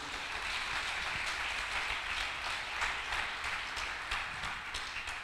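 A church congregation applauds during a sermon, a steady wash of clapping from many hands that holds at an even level throughout, with no speech.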